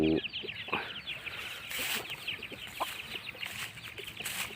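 Village chickens, including roosters, clucking and calling in a farmyard in the morning, with repeated short clucks and squawks close by over steady background bird chatter.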